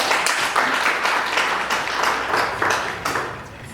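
Lively audience applause at a book launch at a café, close and loud with a dense patter of many hands, holding steady for a few seconds before easing off.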